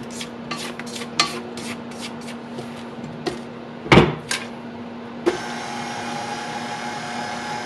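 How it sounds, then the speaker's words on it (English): A spoon or spatula stirs cake batter for an iron skillet pineapple upside-down cake and scrapes down the bowl, making rhythmic tapping scrapes, one sharp clatter, then a steady whirring hum of mixing near the end. "Make sure as you're mixing, you're doing your scrape down."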